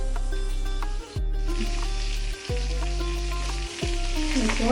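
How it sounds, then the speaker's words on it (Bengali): Fish pieces frying in spattering oil under a lid, a steady crackling sizzle over a low electrical hum that drops out briefly at intervals, close and without speech. "চার পিস করে জন্য ভেজে নেব যেহেতু তেল গাছি গাছি করে সেই জন্য আমি একটু ঢেকে দিচ্ছি"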